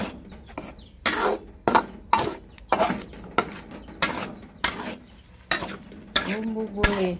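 A utensil scrapes and knocks against a wok in about a dozen sharp irregular strokes while spice paste is stirred as its water cooks off, with a faint sizzle between strokes.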